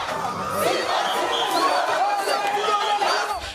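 A celebrating street crowd in Kaweni shouts and cheers for its victor, a dense, close wall of overlapping voices that stays loud throughout.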